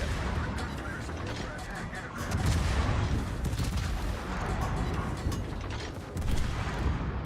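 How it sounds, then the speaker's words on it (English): Naval guns fire in the World of Warships video game, a dense, continuous wall of booming salvos and rumbling mechanical noise that swells louder partway through and stays loud throughout. "Concentrate fire on the enemy warship."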